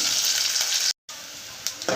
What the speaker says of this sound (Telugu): ఎర్రగా వేగనిద్దాము